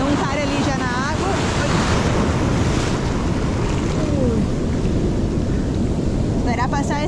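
Large ocean waves around three metres high roll and break at a beach, a loud continuous roar of surf and wind buffeting the microphone, with brief voices in the background.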